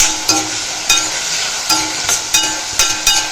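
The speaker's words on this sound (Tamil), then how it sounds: "இந்த பக்கம் வெங்காயம் தக்காளியும் நல்லா வதங்கட்டும்." Onions and tomatoes sautéing in a pan, a steady sizzle broken by regular scraping and stirring strokes, close and fairly loud.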